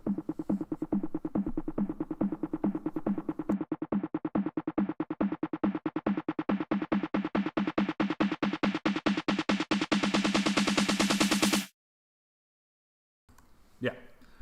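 An electronic drum group runs through an auto filter, its steady, dense beat brightening as the filter sweeps open over about twelve seconds, then cutting off abruptly, followed by a short burst of sound after a brief silence.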